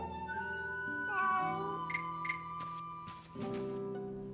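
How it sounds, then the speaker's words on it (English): A cat in Fate Samurai Remnant meows as it is petted, a few clear, drawn-out tonal mews in a row over soft game music. "And now it's time to pet the kitty."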